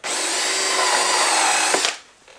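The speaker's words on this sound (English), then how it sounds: "I just have this step bit, and I'm gonna drill in my motorcycle" A step drill bit bores through a CFMOTO Ibex 450 motorcycle pannier rack, a loud, steady high-pitched power-drill whine for nearly two seconds that cuts off abruptly, followed by quiet.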